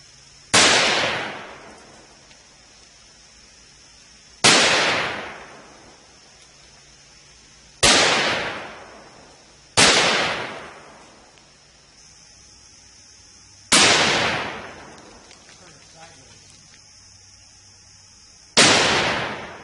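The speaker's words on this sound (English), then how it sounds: "Okay, multiple shots of 308." Six loud .308 rifle shots ring out against a commonly available steel plate, spaced a few seconds apart, each a sharp crack with a decaying tail and no talk between them.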